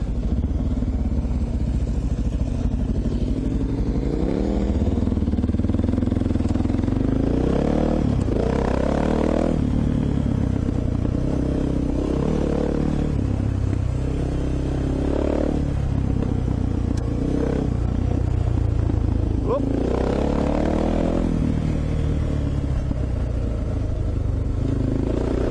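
A dual sport motorcycle engine on a short trail ride at Kangaroo Flat drones steadily throughout, rising and falling as the rider works the throttle, with clatter and scraping from the trail mixed in.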